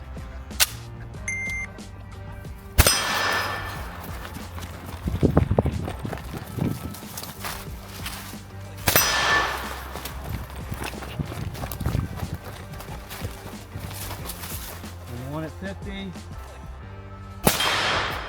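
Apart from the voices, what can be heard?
rifle shots hitting a steel gong target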